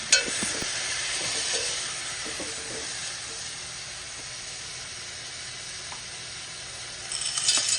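A spoon stirs chicken macaroni soup in a pot with chicken broth, giving a soft steady scraping and sizzling hiss, fairly quiet with a few faint clinks.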